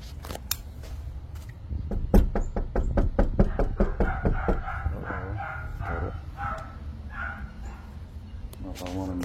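A doorbell sounds a recorded dog barking in a quick series of sharp woofs, followed by knocking and faint voices near the front door.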